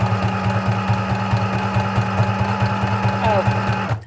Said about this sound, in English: So you know how I've said that this sewing machine doesn't work so well sometimes?